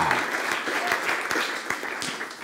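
Audience applause at a talk on mindfulness: a dense crowd of hands clapping steadily and fairly loud for a couple of seconds, filling the room with no voices over it.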